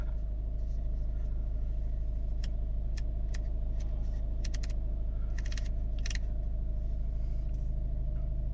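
A 2012 Volvo V50 with a 1.6 D2 diesel engine idles steadily nearby, a constant low rumble with light clicking taps on top.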